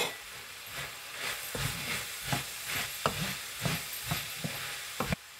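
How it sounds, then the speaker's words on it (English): French beans and potatoes cooking in a pan over a medium flame, with a soft continuous sizzle broken by a series of scraping stirs at a regular rhythm, fairly quiet and close. "The vegetables are cooking."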